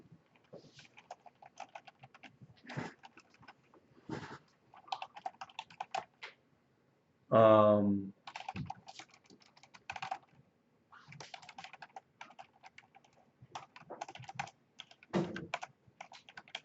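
Programming code typed on a computer keyboard, scattered clusters of soft, close key taps spread across a quiet room, with one brief louder tonal sound midway and long gaps between bursts.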